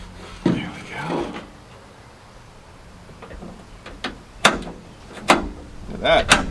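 Door lock on an abandoned, long-parked Chevrolet C10 pickup clicking and clunking through several sharp mechanical snaps, close and fairly loud, after some low handling noise at the start.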